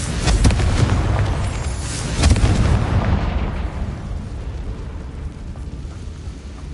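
Confringo fire spell explosion in the Hogwarts Legacy video game, a loud booming blast with a rumbling burst that swells again and then fades into a lingering low roar.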